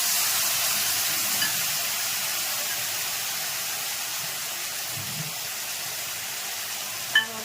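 Hilsa fish and ground mustard paste sizzle and fry steadily in a pan, a continuous close hiss with faint stirring knocks and a sharper clink near the end.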